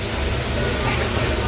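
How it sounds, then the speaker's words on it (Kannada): Okra and green chillies frying together over a high flame give a steady, dense sizzling hiss that runs unbroken throughout, close and fairly loud, with no pauses. "ಇವಾಗ ಬೆಂಡೆಕಾಯಿ ಹಸಿಮೆಣಸಿನ್ಕಾಯಿ ಎರಡನ್ನೂ ಒಂದರಲ್ಲೇ ಹಾಕಿ ಉರಿಬೇಕು"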